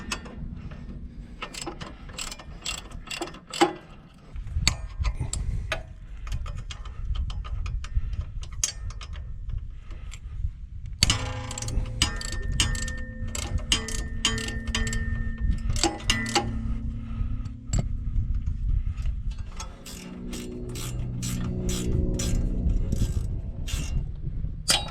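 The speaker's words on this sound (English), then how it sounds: "the first thing we're going to do is remove the two bolts on this side" Hand tools loosen bolts on a Kubota BX23S compact tractor, with rapid ratchet clicking in close repeated bursts, metallic wrench taps and scrapes, and a steady background hum throughout.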